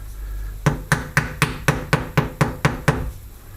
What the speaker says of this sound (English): So just tap that on. So yeah, use the back of a hammer